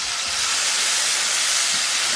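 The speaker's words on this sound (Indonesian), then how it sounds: "Ini kita tumis pakai minyak bekas goreng cabai tadi ya." Ground spice paste sizzles in hot oil previously used for frying chilies, giving a steady, close, loud hiss without pause.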